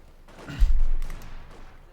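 A single mortar round from a German Granatenwerfer 34 in Company of Heroes 2 lands with a deep, heavy thump, swelling briefly and fading out, with a faint voice underneath.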